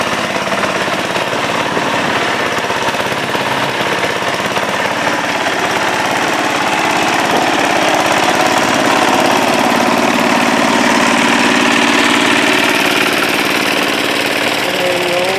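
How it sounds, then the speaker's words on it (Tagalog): A generator engine running steadily at a construction site near a welding machine, a loud, continuous rumbling drone with a rattling, hammering texture that holds unbroken throughout. "generator."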